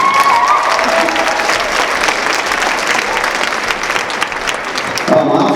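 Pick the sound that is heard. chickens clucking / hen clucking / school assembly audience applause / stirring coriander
school assembly audience applause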